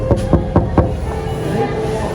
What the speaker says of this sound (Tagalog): Katok tayo muna.